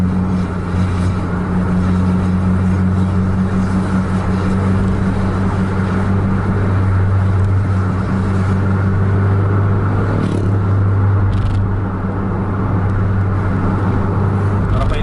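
A heavy truck at full throttle on the road, either a Mercedes-Benz 1626 or a Scania K410, giving a loud, steady diesel drone with a deep engine hum that holds without a break throughout.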